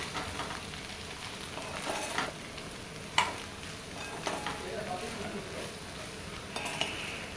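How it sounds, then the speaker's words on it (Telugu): Okra (bendakaya) frying in a pan with garlic chilli powder, stirred now and then: a soft, steady sizzle with occasional light utensil scrapes and clinks, fairly quiet and without speech. "వేసుకొని మొత్తం మిక్స్ చేసుకొని మరొక టూ మినిట్స్ వరకు ఫ్రై చేసుకోండి"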